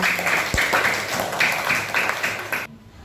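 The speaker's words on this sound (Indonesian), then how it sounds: "Tepuk tangan dari kelompok As-Salam." A group of young schoolchildren in a classroom claps rhythmically in quick bursts, fairly close, ending abruptly.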